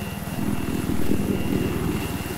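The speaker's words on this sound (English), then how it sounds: "Enemy chopper ahead." A steady, loud thumping rotor drone of a helicopter in Battlefield 4, constant throughout with a rapid pulsing beat and no voices.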